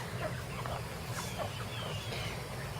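Hens clucking in a backyard garden, soft low clucks and murmurs repeating steadily at close range over a constant outdoor background hum.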